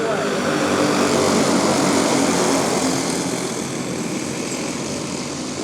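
Race cars at the American Dream Challenge racing under green flag make a dense, loud roar of engines that holds steady and eases slightly toward the end.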